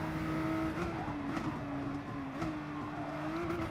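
Race cars lapping Suzuka in the video game Gran Turismo Sport, a steady high engine whine rising and falling slightly through gear changes, fairly quiet and with no talk.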